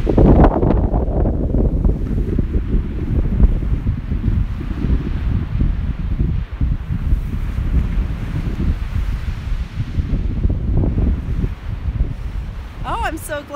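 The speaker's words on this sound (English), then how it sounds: "I'm so glad you all are liking the sound of the water this morning." Strong wind buffets the microphone on a cold beach as ocean water washes continuously beneath it, a loud, steady, rumbling roar with no clear breaks throughout.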